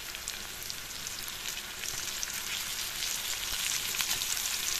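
Small fish frying in a pan, a steady close hiss of sizzling oil that grows slightly denser over a few seconds, with no voices.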